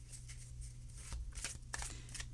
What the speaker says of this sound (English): I'm going to shuffle once more and then 2 off the top